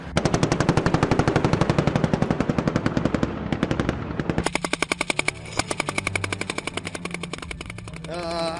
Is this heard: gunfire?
yes